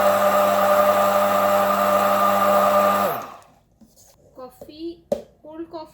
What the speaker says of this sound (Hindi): अब इसको हम अच्छे से ब्लेंड कर लेते हैं।